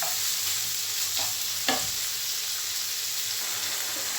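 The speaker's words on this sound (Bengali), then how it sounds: "মশলাটা কিছু সময় কষিয়ে দিয়ে নিলাম চিকেনটা" Chicken stir-frying in spice masala, a steady close sizzle with a few scraping stirs of the spatula, one sharper scrape partway through.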